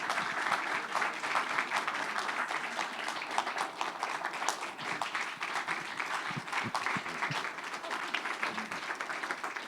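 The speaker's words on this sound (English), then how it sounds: "Would you give a Berkeley round of applause?" An audience at a Berkeley evening lecture event applauds: dense, sustained clapping from a large crowd that holds steady for about ten seconds, with no talking over it.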